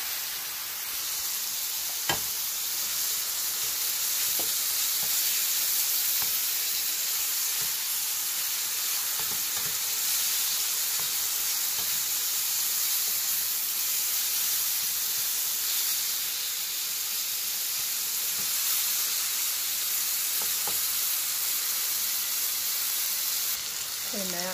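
Fresh garlic sizzles in a hot pan while a chipotle burrito bowl is being cooked, giving a steady, close frying hiss that runs throughout with a few faint clinks.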